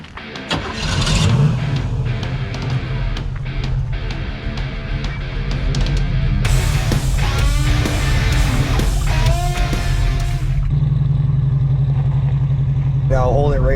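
Pontiac Firebird Trans Am engine, a Bandit car being revived, starting and revving loudly in repeated throttle blips, with voices talking over the running engine.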